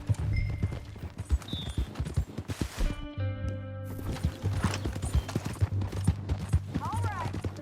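Horse hooves clip-clop in a steady rhythmic trot in the video game Red Dead Redemption 2, with a brief whinny and some game-like tones mixed in.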